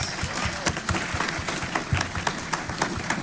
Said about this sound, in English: Daniel, a round of applause.